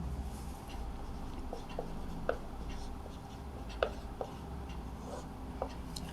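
Pen or chalk taps and scratches come through in short irregular strokes as a matrix of numbers is written by hand, faint against a low steady background hum.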